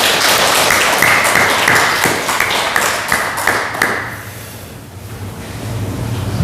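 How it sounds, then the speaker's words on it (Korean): Congregation applause of comfort and encouragement at a Sunday church service, a dense steady wash of many hands clapping that thins and fades midway, then swells again. "우리 위로와 격려의 박수로"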